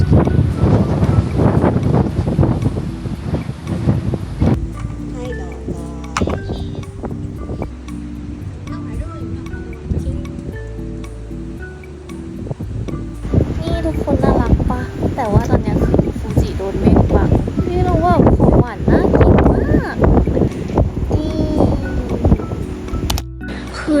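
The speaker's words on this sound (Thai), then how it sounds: "ตอนนี้หมดสภาพมากเพราะว่าเป็นทะเลเนาะลมแรง" Strong sea wind buffets the microphone at a seaside spot in Kamakura, Japan, a loud continuous roaring rumble with gusts throughout, while people talk underneath.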